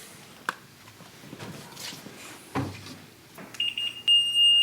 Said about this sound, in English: It comes into level with a steady sound like that